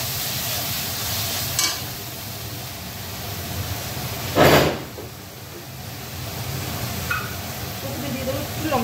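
Mushrooms for a curry sizzle steadily in a pan while a spoon stirs and scrapes them, with a few louder scraping bursts standing out over the constant frying hiss.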